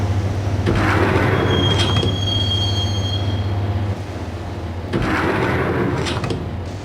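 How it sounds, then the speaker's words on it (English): A subway train ride in the Max Payne video game: a steady rumble of rolling carriages with high, drawn-out wheel squeals and two bursts of clattering rail noise, loud and close. "the train doors had already shut behind me, and I was in for the ride"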